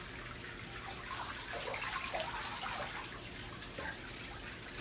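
Continuous running water from an indoor turtle pond filter and fountain, a steady close splashing and gurgling wash with no talk.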